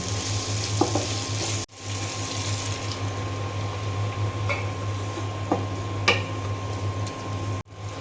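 Ginger, onion and garlic paste frying in oil, a dense continuous sizzle with a steady hum underneath and a few brief scrapes, broken by two short cuts.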